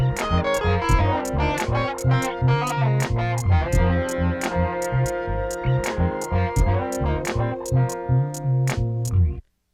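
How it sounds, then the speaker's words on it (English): A heavily distorted electric guitar track plays rhythmic chords over a steady beat, loud and dense, cutting through the mix, stopping abruptly at the end. "the track with the distortion on it is still cutting the best"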